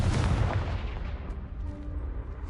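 A Confringo blasting spell explodes in the video game Hogwarts Legacy, a loud close boom that rolls off into a fading rumble with no talk over it.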